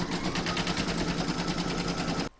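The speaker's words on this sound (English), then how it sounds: "pop that into your machine and stitch round number 1, and that's going to do the batting placement outline" An embroidery machine stitches a batting placement outline for an in-the-hoop vintage witch's boot, a steady, dense mechanical whirr with a fast stitching pulse that runs loud and close, then stops abruptly near the end.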